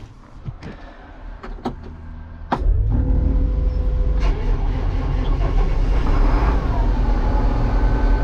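A newly purchased farm vehicle's engine cranks over after a few faint clicks and knocks, then catches at once and settles into a loud, steady, rumbling run close by.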